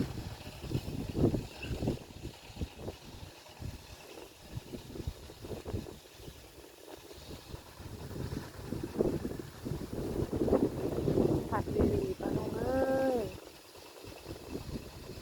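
Wind gusts buffet the microphone outdoors beside the water, a steady rumbling roar that swells and fades, with scattered knocks and a brief tonal sound near the end.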